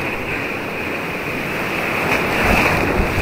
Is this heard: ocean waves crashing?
yes